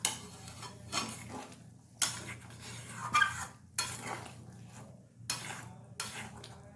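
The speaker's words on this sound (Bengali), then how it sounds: "গরম জল দিয়ে একবার ভালোভাবে এটাকে নাড়াচাড়া করে দেবো" Metal utensils scrape and clank against a pan of vegetarian giant taro curry with hot water added, in repeated stirring strokes, each sweep followed by a short pause, close by with no talking.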